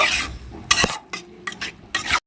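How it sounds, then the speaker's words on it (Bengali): Spice masala being sautéed with a splash of water in a pan, heard as scraping stirs and soft sizzling in short bursts with brief pauses between, close and moderately loud. "এবারে এটা খুব ভালোভাবে একটু কষিয়ে নেব"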